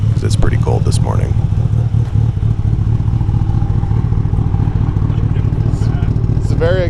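A cold E85-fuelled 625 wheel horsepower Mitsubishi Evo 5 idles while warming up, a steady low rumbling drone with slight roughness held at constant level throughout, close and loud, with voices speaking over it.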